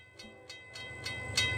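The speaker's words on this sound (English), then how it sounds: "An ES44AC and two -9s pull this train today." A freight train hauled by an ES44AC and two Dash-9 locomotives rolls past among fall foliage, with a low steady rumble and rhythmic wheel clicks growing gradually louder over a brief moment.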